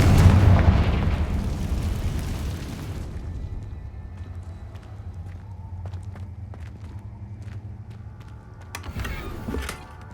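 Confringo fire spell from the video game Hogwarts Legacy bursts with a loud, booming explosion right at the start that rumbles and decays over a few seconds, followed by quieter debris crackles and a second sharp blast near the end.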